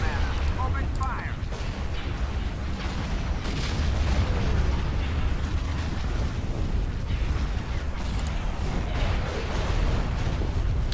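Space fleet weapons fire in Empire at War, a dense, continuous barrage of booming cannon shots and laser bursts over a heavy rumbling bed, loud and unbroken across the whole stretch.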